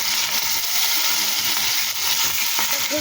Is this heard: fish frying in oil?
yes